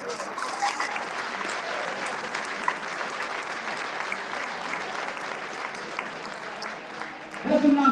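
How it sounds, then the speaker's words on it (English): Sustained applause from an audience at the Melbourne Firefighter Stair Climb 2024 presentations, steady clapping filling nearly eight seconds, ending in a louder burst with a brief voice or cheer. "So, big round of applause for all of our massive sponsors."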